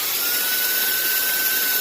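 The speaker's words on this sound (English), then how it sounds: "When you drill an acrylic, you don't want to push hard. Let the bit do the work." A power drill bores through the acrylic wall of a large aquarium, giving a steady, close, high-pitched whine with a constant tone across the whole short stretch.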